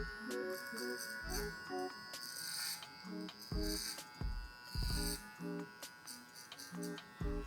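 An electric hair clipper buzzes steadily while cutting a short textured fringe haircut, its hum rising and falling with the strokes, faint and close.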